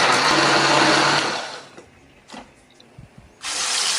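A blender grinding chili paste with a little water whirs loudly, stops for a few seconds of quiet clinks, then starts grinding again at full power.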